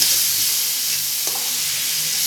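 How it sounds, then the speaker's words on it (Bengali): Spices for a bachelor-style Bombay duck curry sizzle loudly and steadily in a pan while being stir-fried, with a faint scrape or two of the spatula and no voices. "মশলা দেওয়ার পর একটু হালকা করে কষাতে হবে"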